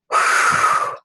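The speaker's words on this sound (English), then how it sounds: "go ahead and take a deep breath" One deep breath drawn in close to the microphone, a breathy rush of air lasting about a second and then stopping, with nothing else heard.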